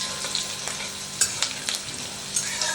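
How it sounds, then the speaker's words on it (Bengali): A tempering of chopped green chillies and curry leaves crackles and sizzles in hot oil, up close, with several quick spoon taps and stirs cutting through the steady frying; nobody talks. "তো ফোড়নটাকে একটুখানি ভেজে নেব"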